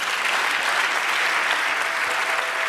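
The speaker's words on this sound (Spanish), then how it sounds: "Dale un aplauso al Señor." A church congregation applauds, a dense, even wash of many hands clapping at moderate volume throughout.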